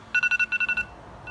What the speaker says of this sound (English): to see what the ringtone will be, it's the radar. And it'll sound like this.